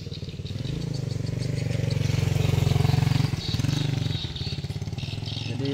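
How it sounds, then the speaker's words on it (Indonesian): A motorcycle engine drones nearby as the bike rides slowly over a potholed, puddled village road in Mangkoso, rising and easing in pitch with occasional rattles and clatter from the rough surface. "Jadi pengendara motor yang melalui jalan ini ya Tribuners harus"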